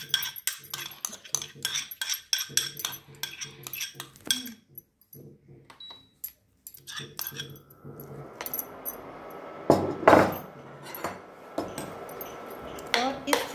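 A spoon scrapes and clinks repeatedly against a wok as cream is stirred over gas heat to make ghee, giving irregular metallic taps and scrapes, with a louder sizzling burst near the end and some quiet talk in between.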